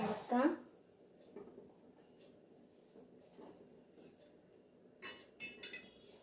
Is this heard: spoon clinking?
yes